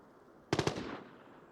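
An AK rifle fires a quick burst of three sharp shots in a video game, fairly close, followed by a short fading echo over a quiet background.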